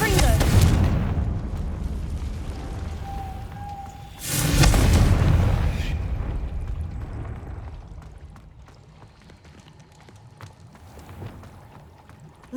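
A fiery Confringo spell explodes in the video game Hogwarts Legacy: a sudden heavy blast and roar that swells, then trails off into a low rumbling ambience.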